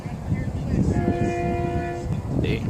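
A Florida East Coast Railway train sounds its fouled S3L air horn, a steady, slightly sour multi-tone blast of about a second over the loud rumble of the passing train.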